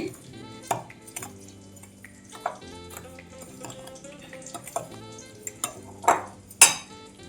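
Chili powder is worked into pieces of guava pickle, giving intermittent wet scraping and clinking strokes that grow sharper toward the end, over soft background music with no voices.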